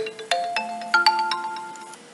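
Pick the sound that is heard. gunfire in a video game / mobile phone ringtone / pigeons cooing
mobile phone ringtone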